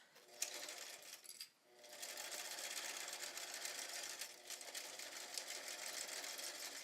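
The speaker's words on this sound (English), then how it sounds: "Remember to lock stitch." A sewing machine lock stitching a bag seam with a Teflon presser foot, running in a fast, steady, continuous whir after a short pause, fairly faint and close.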